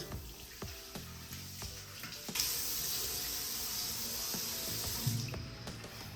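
Running water from a tap splashes steadily as a face is rinsed after an ubtan paste, with occasional hand splashes and a louder gush midway, close and without speech.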